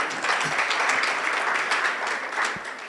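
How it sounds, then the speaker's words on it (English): A conference audience at a scientific meeting in a beach resort hall gives sustained applause, a continuous wash of many hands clapping, fairly steady and moderately loud. "I think she deserves a bigger round of applause"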